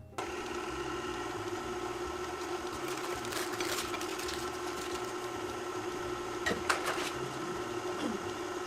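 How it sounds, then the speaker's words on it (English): Stand mixer working butter into flour dough, giving a steady mechanical whir with a low hum, close and continuous, with a few brief clicks and knocks near the end. "now we're just going to mix until our butter is well incorporated into our flour"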